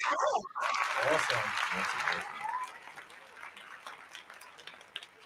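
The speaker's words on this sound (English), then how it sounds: "we have a crowd in the audience who's applauding" Live-stream studio audience applauding and cheering a guest, loud clapping bursts at first that gradually thin and fade toward scattered claps, with voices talking and whooping over it.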